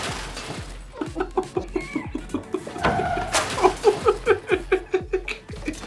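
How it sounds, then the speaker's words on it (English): Chickens clucking on a farm, a close, rhythmic series of short repeated clucks running steadily throughout, with a brief louder squawk midway. "Chickens are characters, hands down."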